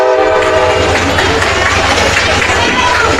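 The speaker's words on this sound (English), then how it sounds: "Train is passing by behind the stadium," A passing train behind a softball stadium, with a loud, steady rumble of rolling cars and a sustained horn blast dominating, and a voice talking underneath throughout.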